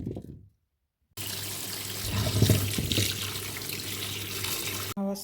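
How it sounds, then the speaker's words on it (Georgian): Tap water gushes into a pot, starting abruptly after a brief silence, a steady rushing splash that rises slightly in tone as the pot fills, then cuts off near the end. "ავასხი წყალი და შემოვდგით ცეცხლზე."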